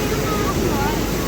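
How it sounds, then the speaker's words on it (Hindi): Floodwaters of the swollen Beas river rush past in a steady, broadband roar with no pauses, loud and close, mixed with wind buffeting the microphone. "तो दोस्तों भयंकर नदी आती हुई ब्यास नदी"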